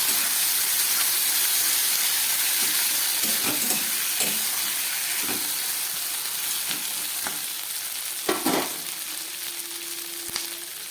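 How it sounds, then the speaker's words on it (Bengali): Ginger and red chili paste sizzles and fries steadily in a pan, a continuous close hiss with occasional sharper crackles and stirring scrapes, no talking. "খুব ভালো করে এবার আদা আর লঙ্কাটাকে আমি একটু কষিয়ে নেব।"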